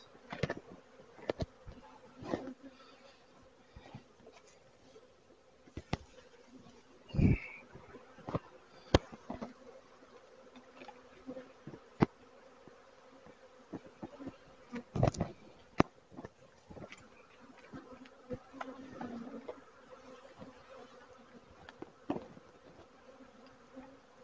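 Honeybees buzz steadily around a Flow Hive during an outdoor hive inspection, a continuous close drone with individual bees zipping past the microphone and occasional knocks and taps from handling.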